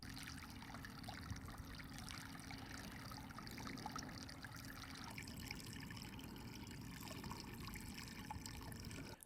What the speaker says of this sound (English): I connected the pump and enjoyed the first sounds of our small